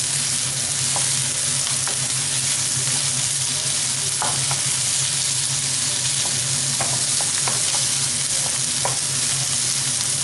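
Vegetables for a Mediterranean gnocchi bake cook gently in a pan, giving a steady, close sizzle throughout with occasional soft clicks of stirring, no voices.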